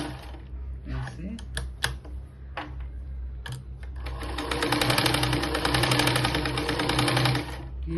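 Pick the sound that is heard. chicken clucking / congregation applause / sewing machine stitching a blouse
sewing machine stitching a blouse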